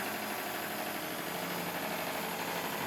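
A live steam power plant for an RC fishing boat runs at about 50 psi during a tub test, giving a steady, continuous mechanical hiss and engine hum with no pauses, fairly close and even in level.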